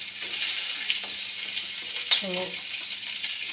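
Rice with beans frying in a home kitchen pan, a steady hissing sizzle with a brief clink of utensils and faint stirring, quiet and continuous.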